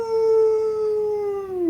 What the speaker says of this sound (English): you hear the sound of howling in the distance